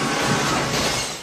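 Glass shatters in a scene from the film Total Recall, one loud, dense burst of breaking and crashing shards that fills the whole moment up close.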